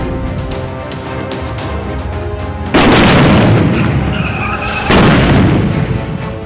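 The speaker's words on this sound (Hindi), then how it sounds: "ये धमाका दरअसल सीआईएसएफ की उस सुरक्षा ड्रिल का हिस्सा है" Loud explosions set off during a CISF security drill, two heavy blasts a couple of seconds apart that flood the scene with broadband roar over steady rumbling background noise.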